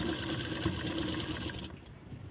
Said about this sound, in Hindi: तो देखिए अभी हम सिलाई लगाना शुरू करते हैं।